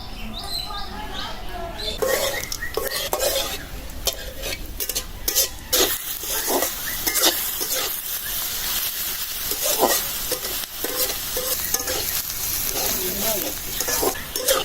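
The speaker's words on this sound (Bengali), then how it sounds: "পেঁয়াজটা আমার ভাজা হয়ে গেছে এখন কাঁচামরিচটা দিয়ে দেবো" Chopped onions fry and are stirred in hot oil in a wok for a mixed freshwater fish curry, giving a steady, close sizzle with repeated scraping stirs throughout.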